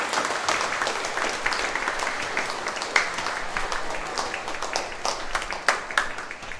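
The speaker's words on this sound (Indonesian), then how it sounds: "Mari kita mengungkapkan kegembiraan kita beri aplaus untuk mereka semua." Sustained applause from a church congregation welcoming newly installed parish neighbourhood committee members at a Sunday Lent Mass, a dense steady patter of many hands clapping with a few sharper claps standing out.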